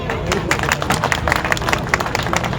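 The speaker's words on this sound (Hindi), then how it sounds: "बजाओ तालियां" Crowd clapping at a charitable trust gathering in Ballabhgarh, Faridabad, a thick, brisk patter of many hands with a murmur of voices underneath.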